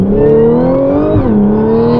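A 2015 Audi S4 making 500 horsepower accelerates hard, its engine note rising steadily in pitch, dipping briefly at a gear change, then climbing again, loud and close with no talk over it.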